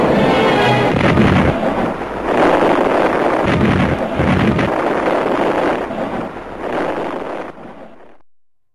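Massive 4,000-pound bombs bursting over a Nazi armament industry center during a WWII night air raid, a continuous loud rumbling roar of overlapping blasts that swells and eases before fading out.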